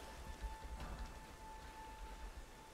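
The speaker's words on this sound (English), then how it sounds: "It's raining again." Steady, soft rain in the Elden Ring video game falls as an even hiss with faint low rumbling beneath and a constant tonal hum in the background.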